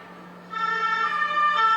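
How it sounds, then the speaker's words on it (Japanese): An ambulance siren wails in the distance in Paris during the 2024 Olympic opening ceremony, its tone rising and sustained, growing a little louder over a faint background hum. "救急車来てますね"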